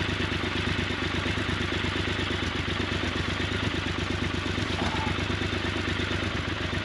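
Royal Enfield Himalayan motorcycle engine running on a dirt route, a steady, close thumping idle with rapid regular pulses and mechanical clatter, held at constant level, with a brief faint voice partway through.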